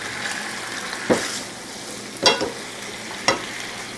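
Shrimp, bell pepper and mushrooms sizzle softly in a pan over low heat, broken by three or four sharp scraping stirs spaced about a second apart.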